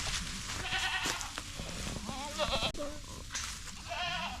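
Goats near a fence line bleat repeatedly in wavering, overlapping calls, several animals close by against a steady outdoor background.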